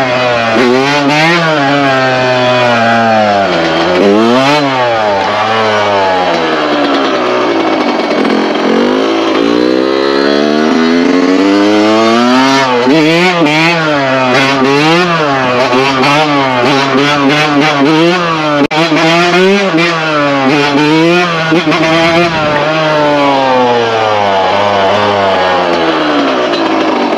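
Motorcycle fitted with a new Lectron carburetor revving repeatedly, engine pitch rising and falling in loud close bursts throughout, with a steady throttle-blipping rhythm and no talking.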